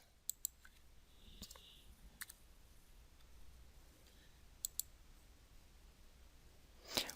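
A computer mouse clicks faintly in a quiet room while someone updates an online shopping cart, with a few sharp isolated clicks spread unevenly over several seconds.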